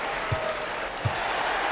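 Video-game crowd applauding in NBA 2K2 after a Lakers vs Clippers basketball game, a steady wash of arena applause and cheering with a couple of low thumps.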